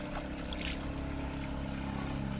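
A boat cruises on the Odra River in Wroclaw, Poland, giving off a steady low engine drone with broadband water and wind wash that stays constant and fairly close throughout.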